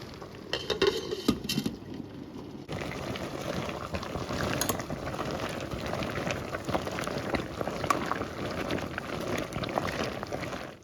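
Apple peels and cores simmering in a covered pot on the stove, a steady close bubbling boil throughout, with a few light metallic clinks of a lid or utensil near the start.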